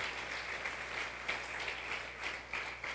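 A church congregation applauds during a Sunday service, a steady, moderately distant patter of clapping that continues throughout.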